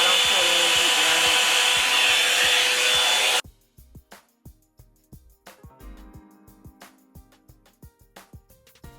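A hot-brush blow dryer runs with a steady, loud whoosh for about three seconds, then cuts off abruptly, leaving a series of light rhythmic ticks and taps.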